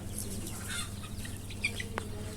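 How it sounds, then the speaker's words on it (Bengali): Month-old desi chicks let loose on a poultry farm cluck and peep softly in short, scattered bursts over a low, steady hum. "এইখানে বাচ্চা মুরগিগুলোকে ছেড়ে দিছি"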